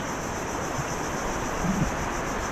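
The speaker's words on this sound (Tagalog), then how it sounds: "medyo malakas talaga ang alon" Steady roar of strong ocean surf and wind after a storm, a continuous wash of broad noise with no distinct breaks, fairly loud and close.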